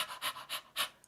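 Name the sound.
person imitating a dog panting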